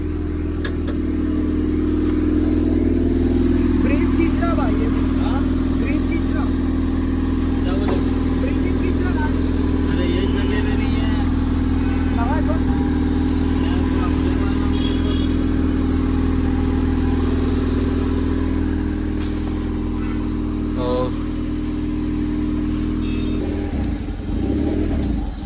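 A Royal Enfield GT650 motorcycle fitted with a KCPD aftermarket exhaust runs loud and steady, a deep throbbing drone that holds for about 25 seconds with slight rises in pitch, while people talk over it now and then.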